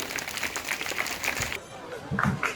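Audience members at a local public gathering clap in welcome, a loose patter of hands that breaks off partway, with voices talking over and after it.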